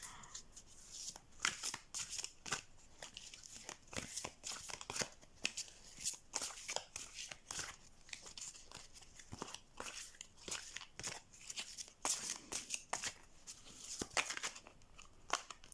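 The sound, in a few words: shuffling oracle cards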